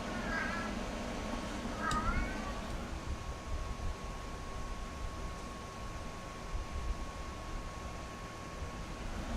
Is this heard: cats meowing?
yes